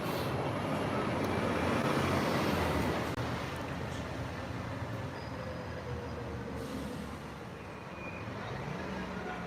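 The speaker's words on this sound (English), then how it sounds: "This is the train station here." Train station ambience with a continuous low rumble of rail traffic and distant road noise, steady and moderately loud, with faint tonal squeals drifting through and no clear speech.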